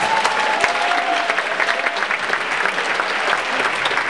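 A rally audience inside Central United Methodist Church applauds during a Martin Luther King Jr. event, with dense, steady clapping that stays loud and close throughout and has no break.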